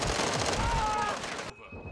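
Rapid bursts of gunfire in the video game Modern Warfare 2, loud and dense for most of the moment, then cutting out abruptly into a quieter tone, with speech mixed in.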